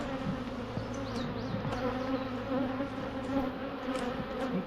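Honeybees swarm and buzz steadily around an open hive during a honey harvest, a dense, continuous close-up drone with no break and no talking.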